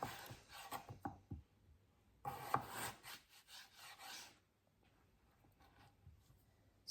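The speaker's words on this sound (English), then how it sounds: "Cut it in half. Cut it into slices." Knife cutting a scrubbed potato into halves and slices for Cajun French fries, heard as a few close rasping, scraping strokes against a wooden board, with quiet pauses between bursts of cutting.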